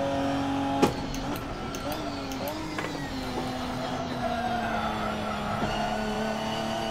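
A GT4 race car engine drones steadily in a racing video game, its pitch easing and holding under throttle, with a sharp knock near the start and faint tire and mechanical noise throughout.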